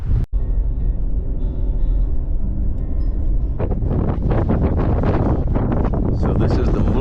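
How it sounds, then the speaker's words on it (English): Strong wind roars across the microphone at a volcano overlook above a lava flow in Hawaii Volcanoes National Park, loud and continuous, growing more turbulent and gusty partway through. "It is really windy."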